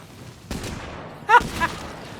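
Shotgun fire in State of Decay 2: two sharp, close blasts under a second apart, the second louder and punchier, against a quiet background.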